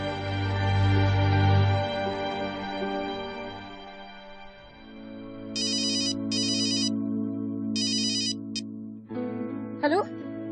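A phone's electronic ringtone plays in short repeated bursts partway through a sustained musical background, bright and distinct above the underlying tones, followed by a brief rising melodic flourish.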